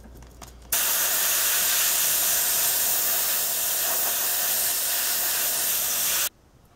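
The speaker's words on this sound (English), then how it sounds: "with my airbrush, I'm going to start painting all the tracks with that particular color" An airbrush sprays light brown paint onto model tank tracks for a Tamiya Chieftain, a loud continuous airy hiss that starts abruptly, holds steady for about five seconds, then cuts off.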